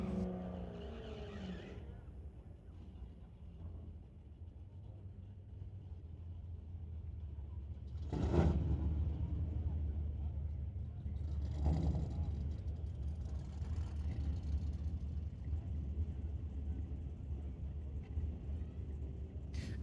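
At a street-legal drag racing event, a 2019 Mustang and a 1971 Camaro fill the air with a continuous engine rumble, with two sharper bursts as cars rev and launch at a distance, under a low announcer's voice.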